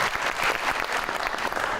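An audience applauds steadily for a TV show guest, a dense, even patter of many hands clapping throughout at moderate volume.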